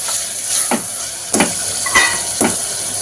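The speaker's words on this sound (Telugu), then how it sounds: "రెండు మీడియం సైజ్ టమాటాలు కట్ చేసుకొని వేసుకుందాం. టమాటాలు కొంచెం మగ్గనిద్దాం." Chopped tomatoes sizzle in hot oil in a pan for goat intestine curry, a steady frying hiss broken by several soft stirring scrapes at even intervals, close by with no voices.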